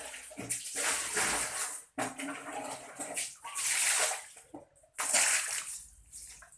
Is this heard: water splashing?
yes